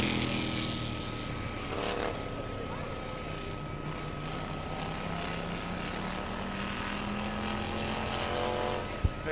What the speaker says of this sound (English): Couple of laps for the slingshot here in attendance.